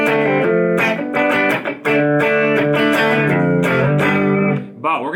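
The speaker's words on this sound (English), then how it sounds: "The original guitar part is something like..." A loud, distorted electric guitar plays a choppy riff of bright, ringing notes with brief gaps, stopping abruptly near the end.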